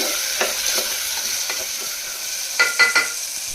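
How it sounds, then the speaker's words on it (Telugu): Onions with curry leaves and spices stirred and frying in a pan until golden brown, a steady close sizzle broken by a few scraping stirs of a spoon. "ఇవి మొత్తం ఒక్కసారి బాగా కలుపుకొని గోల్డెన్ బ్రౌన్ కలర్ వచ్చే వరకు ఫ్రై చేసుకోవాలి."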